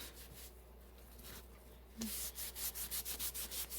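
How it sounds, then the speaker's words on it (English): Quick repeated rubbing strokes of a cloth or wipe across skin, clearing makeup swatches off an arm, start up after a quiet moment and continue in a brisk, even back-and-forth rhythm close by. "Vigorously wipe my arm off."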